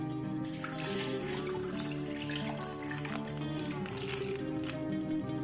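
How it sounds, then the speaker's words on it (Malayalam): Milk poured from opened plastic packets into a pot for payasam, a steady close liquid pouring and splashing that runs continuously without pause, with no talking. "പാലൊന്ന് പൊട്ടിച്ചൊഴിക്കാം."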